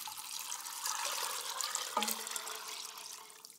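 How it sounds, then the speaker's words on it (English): Fresh cold water pours from a tap onto soaked beans in a kitchen, a steady rushing splash lasting a few seconds with a brief clunk midway, fairly quiet and with no talk. "Add fresh, cold water to the beans."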